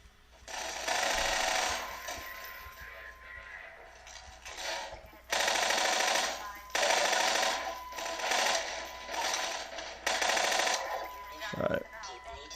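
Automatic gunfire from a weapon in the video game Half-Life 2 comes in repeated rapid bursts, moderately loud, with short breaks between them.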